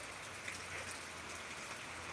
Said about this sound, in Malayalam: മഴ പെയ്തുകൊണ്ടിരിക്കുക കേട്ടോ